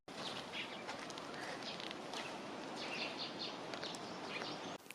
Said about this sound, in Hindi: बाकी केवल चिड़ियों की आवाज़ सुनाई दे रही है